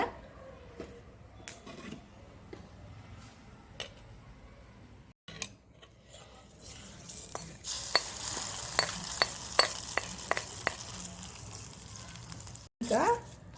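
Tempering being stirred into cooked semolina batter in a pan, with a soft sizzle beneath repeated clicking strokes of a spoon against the pan that grow quicker and louder midway.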